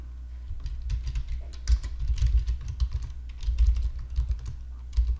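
Fingers tap out a file name on a computer keyboard, a quick irregular patter of key clicks up close in a quiet room, with no talking.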